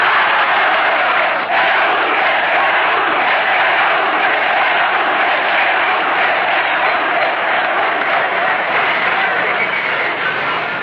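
A crowd applauds a speech by Peruvian leader Fernando Belaúnde Terry, a dense, sustained roar of clapping and noise lasting several seconds on a muffled, narrow-band old recording.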